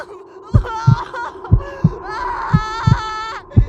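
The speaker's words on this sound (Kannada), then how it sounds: "ಅವನ ಎದೆ ಬಡಿತ ಆ ಸುತ್ತಲಿನ ಪಕ್ಷಿಗಳ ಕೀರಾಟವನ್ನು ಮೀರಿಸುವಂತೆ ಜೋರಾಗಿ ಬಡ್ಕೊಳ್ತಾ ಇರುತ್ತೆ" A heartbeat sound effect thumps in loud, regular double beats, about one pair per second, under a tonal, musical background layer.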